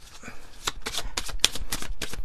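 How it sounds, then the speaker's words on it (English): An oracle card deck being shuffled by hand, a quick run of crisp papery riffles and snaps repeating in a steady rhythm, close and alone with no talk. "let me finish up the shuffle"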